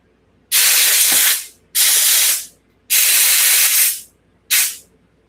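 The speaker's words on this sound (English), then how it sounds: "They just need the grit blown out of it" Compressed air blasting grit out of Japanese bicycle cranks on a 1974 Schwinn Collegiate, four sharp loud hissing bursts of about a second each with short pauses between, close and without talk.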